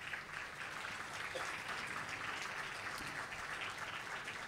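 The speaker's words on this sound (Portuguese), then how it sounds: "Uma grande salva de palmas," Audience applause at a book launch fills the room with steady, dense clapping that holds at an even level throughout, with no break or voice above it.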